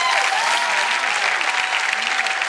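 Studio audience applauding for a game-show winner on a Sunday entertainment programme, steady dense clapping throughout at an even level.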